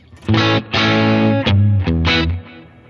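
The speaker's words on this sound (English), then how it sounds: "when I hit B, it will only be hitting this delay and reverb, so it's mild" Electric guitar notes and chords with mild distortion through a Fender amp modeler, trailed by delay repeats and a reverb wash that fills the gaps between strums.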